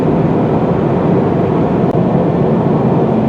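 Low, constant rumble inside a 2018 Toyota 86 GT cruising on the road, a loud, dense cabin drone with road and engine noise holding steady, briefly dipping once midway, with no talking.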